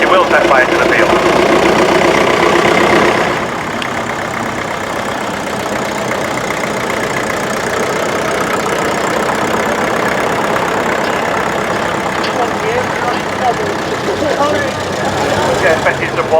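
A Massey Ferguson tractor idles steadily outdoors at a tractor show, its mid-pitched engine running continuously at moderate loudness beneath background voices and crowd noise.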